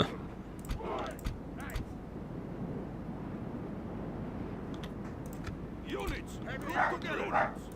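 Dogs bark in the distance in short bursts, a few yips near the start and a louder cluster near the end, over steady wind rumble with someone talking.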